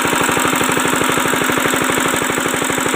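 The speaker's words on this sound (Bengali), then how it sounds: "এই দেখুন এখানে ইঞ্জিন ভ্যান চলছে" A fuel-powered engine mounted on a cargo van runs close by, its loud, rapid, even thumping beat holding steady throughout with no pauses.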